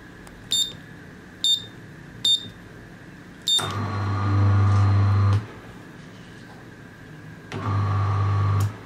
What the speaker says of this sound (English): Now, let's test the whole setup with a high power AC motor.